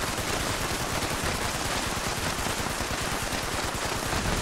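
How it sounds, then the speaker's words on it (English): Turrets firing in a video game, a dense, continuous burst of rapid machine-gun fire, loud and unbroken for the whole stretch, with no talking. "It'll let his turrets kill me."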